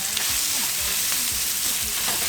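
Ground meat browns with garlic in a frying pan for Somali rice, giving a steady, close sizzle with occasional soft scraping and stirring throughout.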